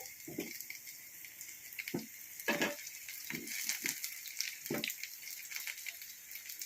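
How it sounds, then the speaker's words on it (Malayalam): Bitter gourd dipped in batter fries in oil for Kerala-style pavakka pollichathu, a quiet continuous sizzle broken by several short bursts of spitting as pieces go in, close and soft, without speech. "പാവയ്ക്ക നമുക്ക് പൊള്ളിച്ചെടുക്കാം"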